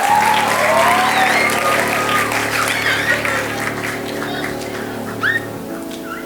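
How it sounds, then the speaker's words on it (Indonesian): Audience applause at a youth church service, sustained clapping from a crowd filling the room and tapering off gradually, with a few faint voices and scattered cheers mixed in. "Kita kasih tepuk tangan dulu dong."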